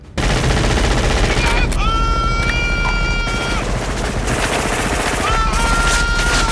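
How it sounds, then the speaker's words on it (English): Loud gunfire from a turn-based shooter video game comes in rapid bursts and fusillades, with ringing tonal game sounds over the shooting. "Pick up a gun and let's pump these scrubs full of lead."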